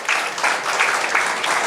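An audience at a Tamil talk bursts into steady, dense applause that stays loud and even throughout.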